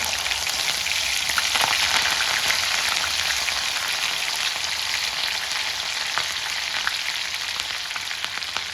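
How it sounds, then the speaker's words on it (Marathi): Garlic, curry leaves and green chilli sputter in hot oil for a tempering, a loud, dense, continuous sizzle with steady crackle and no voices. "मी देत असते लसण, कढीपत्ता आणि हिरवी मिरचीची फोडणी"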